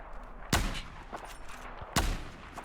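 Two sharp sniper rifle shots in Battlefield 4 ring out about a second and a half apart, each a loud crack with a brief booming tail over quiet game ambience.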